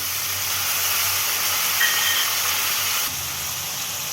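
Water splashed into a hot pan of frying spices, with ginger and green chilli, for a jackfruit-seed dhoka gives a loud, close, continuous steam hiss that shifts slightly near the end, with no voices.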